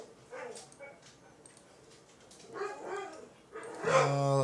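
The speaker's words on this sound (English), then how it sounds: "The puppy dogs are carrying on." Puppies bark, yip and whimper indoors in a short, busy burst, getting louder toward the end, with the yelps rising into sharp, high cries.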